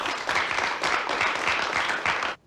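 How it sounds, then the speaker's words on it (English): A canned applause sound effect triggered from a button during a panel show, a burst of dense clapping at even loudness for about two seconds before cutting off abruptly. "I'm gonna keep hitting the applause button until we get the less shitty one."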